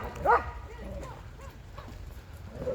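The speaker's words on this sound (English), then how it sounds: "little puppies there that are having a little dispute" Puppies squabble at a snowy winter dog park in Toronto's High Park, giving a few short yips and barks, one louder bark up front and smaller whimpering yaps after, while people talk nearby.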